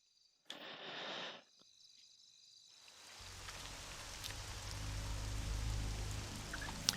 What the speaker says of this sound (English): Just our luck, a storm. A little rain never stopped anyone.